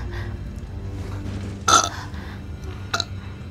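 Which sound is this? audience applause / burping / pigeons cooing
burping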